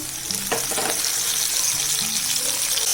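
Two chopped tomatoes tipped into onions frying light brown in a pan for restaurant-style egg curry, giving a steady loud sizzle with a few brief clatters near the start.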